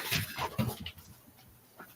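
A dog whimpering indoors early in the morning, a short burst of soft high whines and snuffles close by that fades after about a second.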